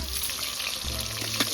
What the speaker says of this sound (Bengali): আবার আলুটা ভাজা হচ্ছে।